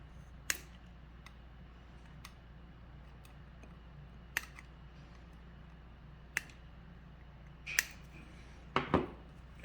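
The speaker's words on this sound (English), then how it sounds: "I'm just going to snip these off and give them nice clean ends so our board stays nice and tidy" Small cutters snip excess component leads off a printed circuit board, giving several sharp, isolated clicks spaced a few seconds apart, quiet over a faint steady hum, with a quick double snip near the end.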